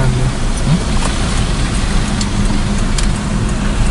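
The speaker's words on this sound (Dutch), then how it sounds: "Het verkeer is echt druk." Busy road traffic roars past steadily and loudly, close by, with cars passing in a continuous wash of engine and tyre noise and no pauses.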